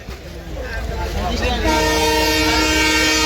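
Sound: train passing with horn

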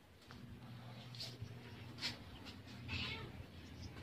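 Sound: cat meowing

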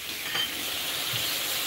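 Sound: squid frying in a pan

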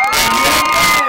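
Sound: crowd cheering and applauding at carnival

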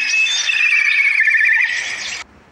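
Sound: kite bird call

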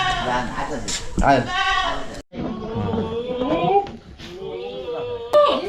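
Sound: goat bleating at a goat farm

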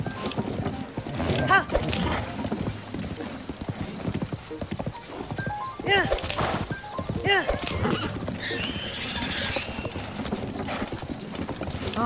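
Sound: horses clip-clopping and neighing at a stable, video game Zelda

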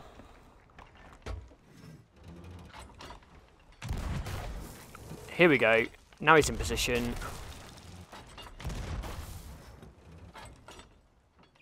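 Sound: cannon fire in video game Sea of Thieves

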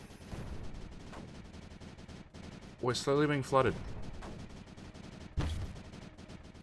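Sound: cannon and mortar fire in video game Creeper World 4

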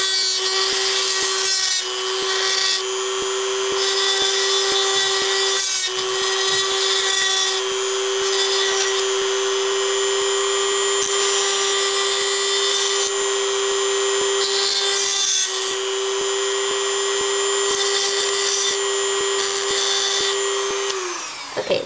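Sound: rotary drill smoothing metal edges

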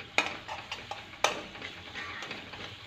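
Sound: masala with tomatoes frying and stirred in a pan

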